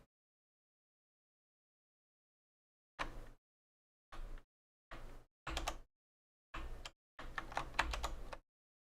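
Keys clatter on a computer keyboard in short, close bursts of rapid typing after about three seconds of silence, ending in one longer run of keystrokes.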